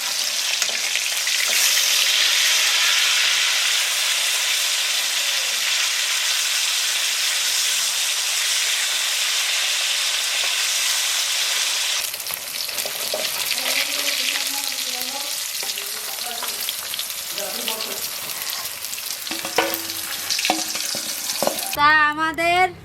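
Boal fish sizzles loudly in hot oil in a pan, a steady broad hiss that thins out midway as clatter and scraping take over, with a voice speaking faintly near the end.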